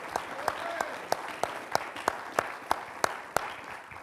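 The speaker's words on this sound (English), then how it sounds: "Let's give the Lord one more clap offering for what He's been doing" Members of a church congregation at a Sunday service in Plymouth, MA, clap together in a steady, evenly spaced rhythm. The claps are loud and close, with a wash of crowd voices underneath.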